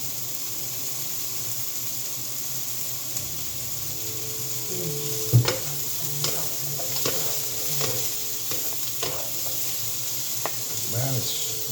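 Sweet Thai pork cubes fry in a pan with a steady, close sizzle and hiss, with occasional stirring scrapes and spatter pops scattered through.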